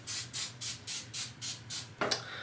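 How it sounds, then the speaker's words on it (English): Oil sheen sprayed over hair in eight quick, evenly spaced pumps, each a short close hiss, followed by a brief rustle at the end. "So I'm just gonna spray."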